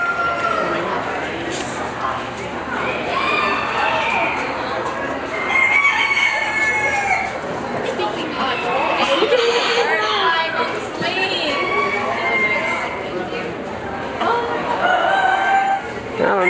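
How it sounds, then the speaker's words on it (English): Chickens and roosters in a rabbit and poultry barn cluck and crow repeatedly at close range, with people chattering in the background throughout. "Look at the chickens and roosters."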